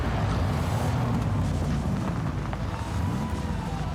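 A car engine roars along a road in a fuel commercial, a dense, rushing rumble of motor and tire noise that stays loud and steady throughout, with a brief higher swish passing midway and no talk.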